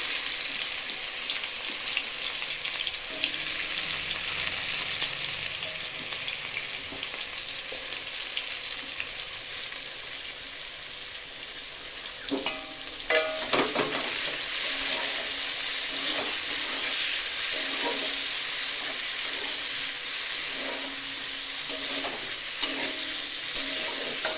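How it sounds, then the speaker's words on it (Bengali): Onions fry in hot oil with crushed garam masala, giving a steady, close sizzle that runs throughout, with a few soft clinks of stirring partway through. "পেঁয়াজটা লাল ভাজা হয়ে গেলে"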